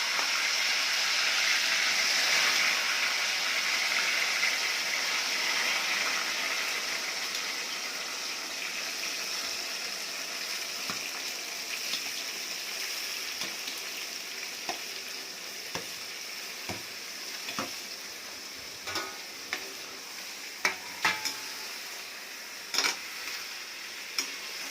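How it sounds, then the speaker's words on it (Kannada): Tomatoes fry in hot oil with urad and chana dal for tomato gojju, a steady close sizzle throughout with occasional sharp pops and crackles from the pan. "ಇದು ಚೆನ್ನಾಗಿ ಎಣ್ಣೆಯಲ್ಲೇ ಫ್ರೈ ಆಗಬೇಕು."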